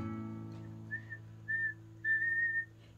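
Three clear whistled notes, short then longer, sound over a steady low hum, with no talking.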